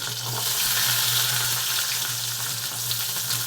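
Steady, loud sizzling of halved small shallots frying in hot oil, a continuous crackling hiss with a low hum underneath and no talking.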